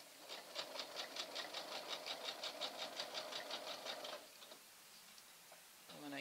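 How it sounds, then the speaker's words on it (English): A sewing machine stitches a fringed burlap table runner along ribbon edging, a fast steady mechanical chatter running for about four seconds before stopping, then quiet with a brief restart at the end. "I'm going to leave my needle in the work and pivot and continue to stitch very close to the edge of the ribbon"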